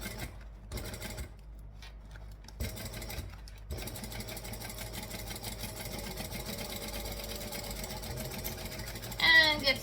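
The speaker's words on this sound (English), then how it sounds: "And get to the end and backstitch to lock that in." A sewing machine stitches a seam, running in short bursts at first, then settling into a steady whirring run and ending with a brief backstitch, close and moderately loud.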